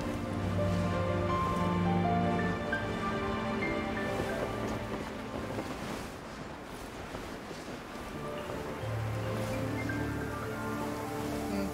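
Rain in a video game, a steady hiss of falling water with a soft pattering texture that stays at a constant, moderate level for the whole stretch, with layered musical or ambient tones beneath and no talking.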